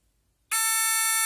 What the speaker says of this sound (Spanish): Ya ahí está activado nuestro alarma.